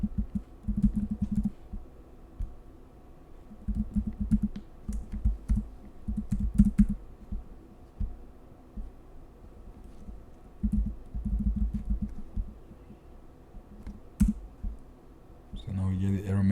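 Bursts of typing on a computer keyboard as a short password is entered, close clicky keystrokes in clusters separated by pauses, with a person speaking at times.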